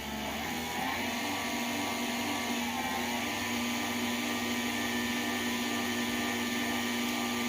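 An electric mixer beats banana pudding ingredients with a continuous, steady motor whine and a bright buzzing hum that holds at even loudness throughout, with a slight pitch waver early on and no voices.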